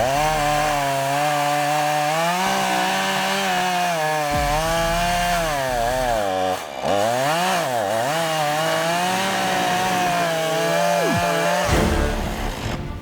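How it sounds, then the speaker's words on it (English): A chainsaw runs loud and close the whole time, cutting a notch in a tree, its engine pitch rising and falling as it bogs into wood and revs back up. "It even took me longer to cut the notch out of the tree than it normally does."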